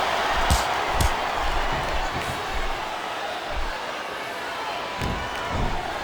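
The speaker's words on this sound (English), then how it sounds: "Sounds like this crowd's got something on their minds" A steady roar of a large arena crowd at a wrestling match in the video game WWE SmackDown! vs. Raw murmurs and hums throughout, with occasional sharp thuds and slaps punctuating the background noise.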